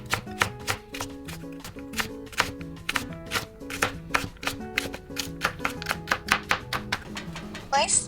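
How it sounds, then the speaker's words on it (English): Knife rapidly chopping carrot into small pieces on a cutting board, a steady run of sharp, close taps throughout. "Do the same with the carrot. Chop it nice and small."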